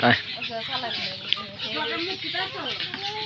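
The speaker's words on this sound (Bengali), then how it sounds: "এই হলো আরেকটা ডাহুক" A white-breasted waterhen (dahuk) calls among other caged birds, giving a close run of repeated chirping, warbling notes that stay steady over its whole length.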